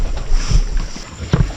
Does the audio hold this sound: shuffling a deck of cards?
no